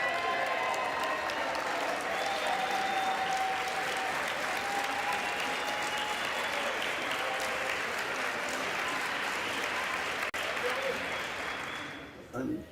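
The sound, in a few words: applause in the House chamber during speaker vote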